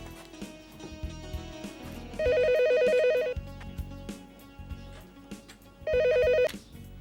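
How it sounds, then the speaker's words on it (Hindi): A telephone rings indoors in a home, two loud bursts of trilling bell rings separated by a pause, over faint household background sounds. "अम्मी, इमरान भाई का फोन है।"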